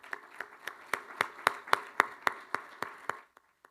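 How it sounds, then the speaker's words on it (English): Sparse applause at a press conference for a search committee: about a dozen sharp, evenly spaced claps from a few people, close and distinct, fading out with a couple of final claps. "Give them a round of applause."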